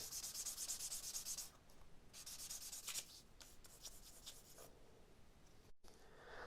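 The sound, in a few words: sanding wood with sandpaper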